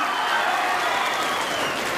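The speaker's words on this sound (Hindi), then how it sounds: "एक बार जोरदार ताली उनकी याद में बजाएं" Sustained, dense audience applause at a mushaira poetry gathering in Nanded, a steady loud wash of clapping from a large crowd filling the whole moment.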